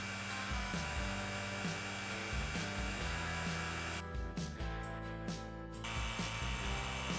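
A vacuum pump runs steadily while drawing air out of wood blanks during stabilizing, a continuous mechanical hum with a persistent droning tone and a short brighter stretch midway, with no talk.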